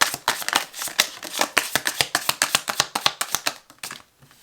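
Tarot cards being shuffled and drawn, a dense run of crisp, papery riffling taps at a quick, uneven rhythm, close and fairly loud, with no voices, fading out near the end.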